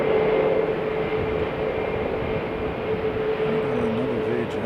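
A Virgin airliner lands at Sydney airport, its engines a steady, fairly loud broadband roar with a low drone, continuous throughout.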